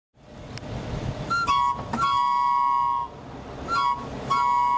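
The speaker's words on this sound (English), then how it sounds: "The sound of that whistle has been delivering more than just smiles as it cruises down Huntington Beach" An old-fashioned beer delivery truck cruising through Huntington Beach sounds a shrill, tonal whistle in several short toots, with a pause between two pairs of blasts, loud and close over faint road rumble.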